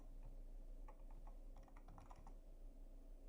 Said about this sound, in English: and then type rest, the same thing like interface